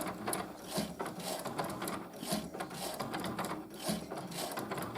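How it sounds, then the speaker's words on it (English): A Cricut Maker engraves acrylic with a continuous mechanical whirring and grinding, punctuated by rhythmic ratcheting bursts, steady and moderately quiet with no talk. "it's going to start the engraving process"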